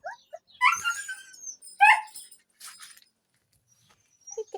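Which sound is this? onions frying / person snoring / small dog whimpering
small dog whimpering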